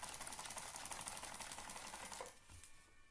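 A Singer Featherweight 222K sewing machine stitches a seam with a rapid, steady mechanical whirr and clatter up close, then slows and stops near the end.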